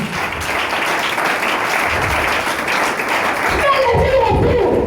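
A church congregation claps and applauds during a sermon in a loud, dense wash of hands. A voice rises over the clapping near the end.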